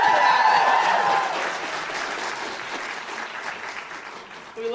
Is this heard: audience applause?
yes